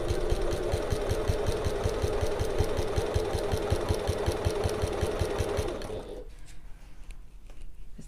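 Domestic sewing machine topstitching a contrast band on an oval bag with a 1/8-inch seam, a steady rapid needle rhythm running loud for about six seconds before stopping, leaving quiet room tone.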